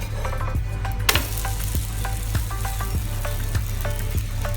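A wheat-flour pancake fries in a pan with a steady broad sizzle, punctuated by a few soft clicks and taps as it is turned over; no voices.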